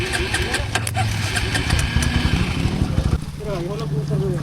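An enduro motorcycle with a weak battery that needs a jump to run churns and rumbles loudly as its engine is started, steady and close, with voices talking over it.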